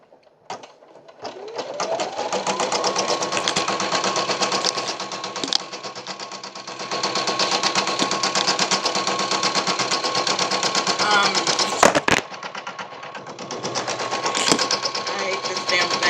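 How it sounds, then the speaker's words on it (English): Embroidery machine stitching a placement line for fabric in an in-the-hoop Christmas ornament project, a steady loud rapid mechanical whirr lasting throughout with a brief pause and a click near the end. "It's going to stitch the placement for me to put the fabric on."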